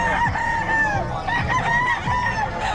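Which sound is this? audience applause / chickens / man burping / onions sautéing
chickens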